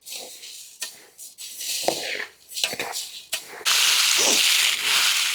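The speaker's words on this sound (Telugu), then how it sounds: "తర్వాత ఎండుమిరపకాయలు వేయించుకుందాం" Dried red chillies frying in a pan for Andhra-style kura karam spice powder, giving a steady sizzling hiss that swells and becomes continuous and louder toward the end, with brief stirring scrapes and a voice talking over parts of it.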